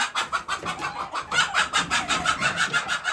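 Hens in a village coop in Dongargaon, where eggs have just been laid, cluck close by in quick, rhythmic bursts, a steady string of calls with no voices over them.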